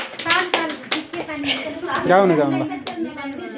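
Farmers at a training session clap along in scattered, rhythmic bursts, close and fairly loud, mixed with a voice singing and calling out.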